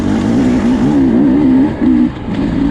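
Engine of a 2024 Beta 250 RR dirt bike heard while riding off-road, a loud close two-stroke drone that rises and dips with throttle changes and briefly eases off near the end.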